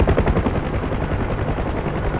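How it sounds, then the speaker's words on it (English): A UH-1H Huey helicopter flies in DCS World, its rotor making a loud, dense, continuous thudding roar that sounds close and steady throughout. "What's that off to my right? A helicopter?"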